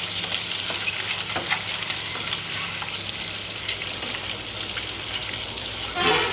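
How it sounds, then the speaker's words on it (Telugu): Eggs frying in a tomato curry make a steady, close sizzle with crackling pops throughout, loud and continuous with no talking. "ఈలోపు ఎగ్స్ చూడండి, ఎగ్స్ ఎలా వేగిపోతున్నాయో."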